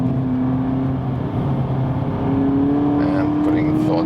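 A race car under full throttle while at the edge of grip, its engine a loud, steady droning note that climbs gradually in pitch, recorded from inside the car with some faint talk underneath.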